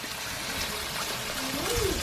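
Beef broth poured in a thin trickle over pork chops in a home kitchen, a soft steady splash under a hissing background, with a brief voice near the end.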